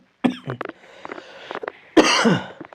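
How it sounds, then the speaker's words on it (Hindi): A man teaching an online exam-prep lesson coughs twice, close and abrupt, with a brief rasping catch between the bursts in an otherwise quiet room. "थोड़ा सा खांसी आ रही है"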